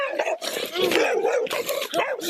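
A police dog barks and growls continuously and loudly at close range during an arrest, with rapid, harsh, overlapping barks and no pauses.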